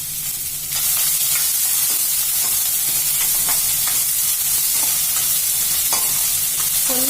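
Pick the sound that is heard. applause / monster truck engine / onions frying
onions frying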